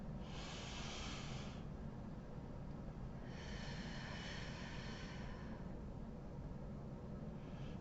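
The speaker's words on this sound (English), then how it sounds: "let's take a deep breath" Two slow, drawn-out breaths, a long inhale and a long exhale, each lasting over a second and separated by a pause, over a steady low hum, with no talking.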